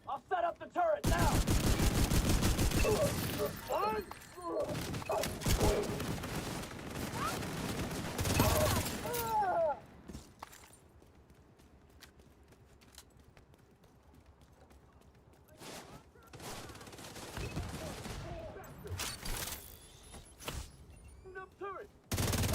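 A deployed turret in a shooter game fires long rapid bursts, loud and close, broken by pauses and short later volleys, with faint voices between.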